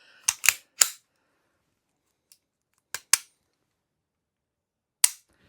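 A Sig Legion 9mm pistol with a double-action trigger gives a few crisp, close mechanical clicks, spaced by quiet gaps, dry and sharp rather than booming.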